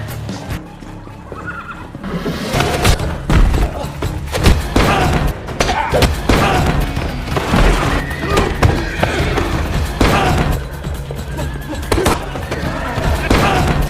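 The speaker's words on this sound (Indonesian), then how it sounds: "dia lagi-lagi diserang oleh assassin lain di sebuah kandang kuda" A horse stable in the film John Wick: Chapter 3, where horses neigh and whinny loudly during a fight. The whinnies come over a dense din of hoof thumps, clattering and impacts that goes on throughout.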